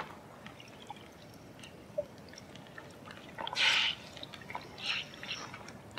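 Water drips and splashes from laundry being wrung out by hand, heard as two short close bursts of falling water over a quiet background.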